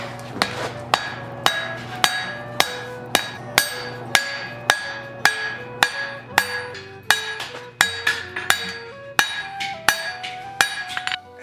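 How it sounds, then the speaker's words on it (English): Hammer blows forge chamfers on the edges of a hot steel chess-piece head: about two dozen sharp, ringing metallic strikes in a steady rhythm, loud and close, each blow decaying briefly before the next. "Now I'm going to heat the whole thing up and chamfer the edges, forge some chamfers in there"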